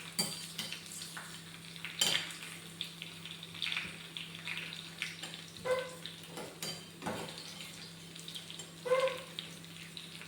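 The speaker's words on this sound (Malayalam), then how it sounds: "ഉള്ളിയും കറിവേപ്പിലും വെളിച്ചെണ്ണയും കൂടി ഒഴിച്ചിട്ട് താളിക്കാം." Onion and curry leaves hit hot coconut oil for a fish curry tempering, giving a soft, steady sizzle with occasional stirring clinks and scrapes, fairly quiet and close.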